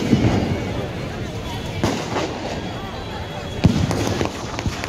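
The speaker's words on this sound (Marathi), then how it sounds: "तर इथे आता फटाक्यांची आतिषबाजी होणार आहे" Fireworks at Shivaji Park in Dadar crackle and pop over a dense, noisy crowd, with a few sharper bangs standing out from the steady roar.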